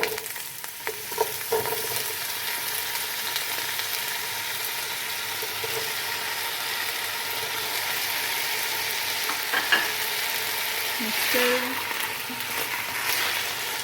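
Potatoes fry in a pan with onions for vegetable rice, giving a loud, steady sizzle throughout with occasional scrapes and taps of a stirring spoon.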